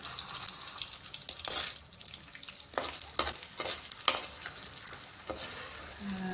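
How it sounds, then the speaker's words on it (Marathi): Edible gum (dink) frying in ghee for ladoos, with a soft sizzle under repeated scraping stirs and utensil knocks in a pan, close and without speech. "आता तुपामध्ये मी ना डिंक तळून घेते."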